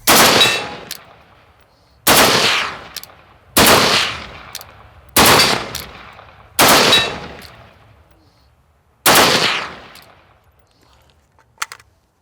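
Six sharp gunshot bursts from an AK-12 assault rifle ring out, each a quick doubled report with a ringing tail, spaced a second or two apart with silence between.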